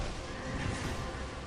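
A horse neighs in the video game Dark Souls, a steady whinny over dense, noisy battle ambience, fairly close and continuous for a moment.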